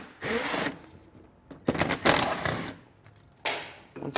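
A power driver fitted with a Torx bit backs fasteners out of a wheel-well liner on a 2018 Chevrolet Colorado, loud close whirring bursts of varying length separated by short pauses.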